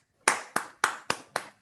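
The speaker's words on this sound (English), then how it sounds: "it is virtual claps" Five sharp, evenly spaced claps, crisp and close, with brief silence between each.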